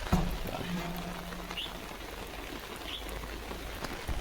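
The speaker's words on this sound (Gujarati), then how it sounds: "વરસાદ આવી ગયો છે" Steady rain falls outdoors in a rural setting, a dense, even patter that runs through the whole stretch with no voices over it.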